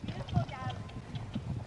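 A horse being ridden on a farm clip-clops with a steady, fairly quick hoof rhythm, faint and close, partly under a person's talking.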